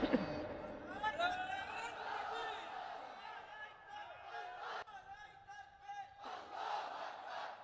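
Large crowd at an outdoor Islamic religious sermon shouting a takbir chant in unison in response to the preacher, a sustained roar of many voices heard from a distance with tonal chanting, rising again after a brief dip.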